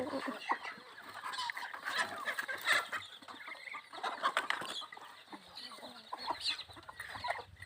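Chickens and ducks cluck and chatter steadily on a rural farm in the evening, with overlapping calls at moderate distance and a few faint sounds in the background.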